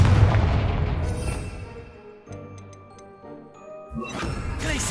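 A Confringo blasting spell bursts in Hogwarts Legacy, a loud booming impact with crackling debris that fades into a brief chiming lull, then a second rushing blast swells near the end.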